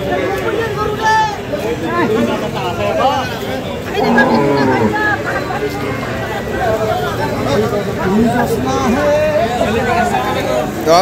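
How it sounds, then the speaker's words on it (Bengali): Cattle mooing at a rainy cattle market, repeated lowing calls from several animals near and farther off, mixed with constant crowd chatter and people bargaining. "ইসলাম কি গরু আনছে সেট"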